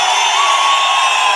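A dense crowd at a political road show in Palamaneru roars with steady cheering and whoops, loud and continuous throughout without breaks.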